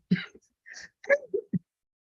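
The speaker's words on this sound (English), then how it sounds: "So was that cough because of the question?" A few short, rough coughs and throat-clearing sounds from a person in a quiet room, close and fairly soft, spread over about two seconds.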